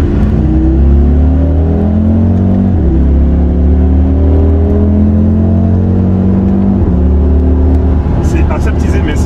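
A loud 2.5-litre engine of a 2021 Audi RSQ3 runs up through gears, the pitch climbing then dropping at each shift, steady and close throughout.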